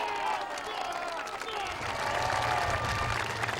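At the 2006 Britain's Strongest Man on the Isle of Man, a crowd applauds a strongman event in a sustained, moderately loud wash of clapping, with a commentator talking over it.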